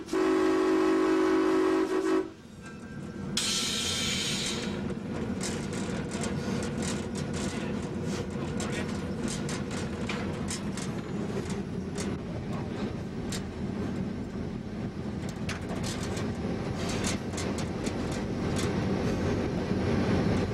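A model train runs on the Northlandz model railroad, a steady, loud mechanical rumble that continues throughout, with a brief bright whistle-like tone near the start.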